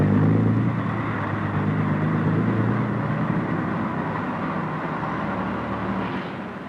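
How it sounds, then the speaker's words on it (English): A bus pulls away from a stop, its engine giving a loud, steady, low drone that slowly fades over several seconds, with no talk. "Le car part."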